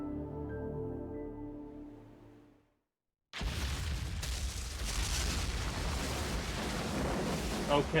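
A huge explosion in the video game Devil May Cry 2 erupts after a brief silence, a loud broadband blast that rolls on as a sustained rumbling roar for several seconds.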